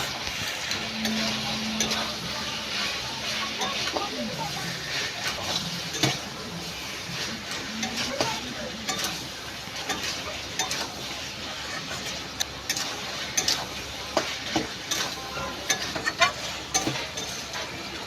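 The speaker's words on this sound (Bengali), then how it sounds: "আবার ভালো করে নাড়াচাড়া করতে থাকবো" Chicken curry with chopped tomatoes and salt being stirred in a pan: continuous sizzling with scattered scraping and ticking clicks of a utensil against the pan, busier toward the end, no talk.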